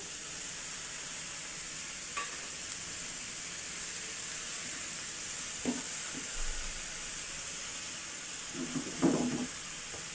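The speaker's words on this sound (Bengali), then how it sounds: "এখন সামান্য পরিমাণে জল দিয়ে দিব, না হয় মশলাটা লেগে যাবে" Spices sizzle steadily in a frying pan after a little water is added for a fish fry, a constant bright hiss with a few faint stirring knocks and scrapes.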